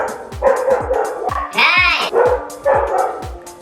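Several dogs bark repeatedly at close range in short, loud bursts, with a brief whimpering yelp partway through and no talking.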